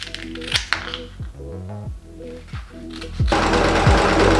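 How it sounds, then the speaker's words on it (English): A sewing machine stitches a thick stack of folded fabric for a DIY bikepacking frame bag, running in short rapid bursts that speed up into a loud continuous whir near the end. "the sewing machine is fine"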